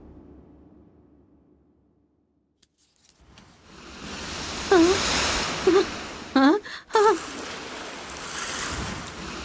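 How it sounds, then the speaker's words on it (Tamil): Steady, broad seashore wave noise rises and then holds. Short musical tones and a dubbed voice drift over the surf in brief bursts, and a sharp cut interrupts the wash partway through. "இந்த கடல் அலைகளோட சத்தம் நல்லா கேக்குதா"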